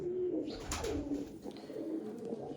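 A long-bodied fancy pigeon, chocolate-coloured with a red head and white eyes, kept by a village hobbyist, gives soft repeated low coos close by, with a brief rustle partway through.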